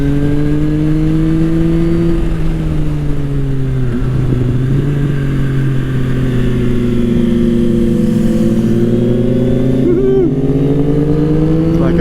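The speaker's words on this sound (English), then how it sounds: "Woo, hit the rev limiter for the first time ever." A Triumph Sport 660 motorcycle on a track day revs hard, its engine note held high and close with slight dips and rises, loud throughout as it pushes toward the rev limiter.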